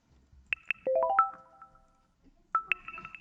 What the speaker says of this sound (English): System notification